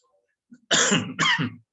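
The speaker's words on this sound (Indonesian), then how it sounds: "kena batuk ini" Two harsh coughs in quick succession, close and loud, after a brief soft throat sound.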